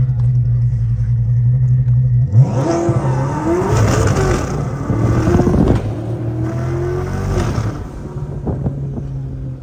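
A C8 Corvette launches hard from a loud idle, its engine rising in a steep rev sweep through rapid gear changes with tire noise, staying near and loud for several seconds.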